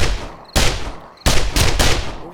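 Submachine gun fire in the video game 7 Days to Die comes in three loud, close bursts of rapid shots, each cutting in sharply and trailing off with echo.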